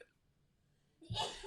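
A single short sneeze bursts out near the end of a brief quiet stretch in a classroom.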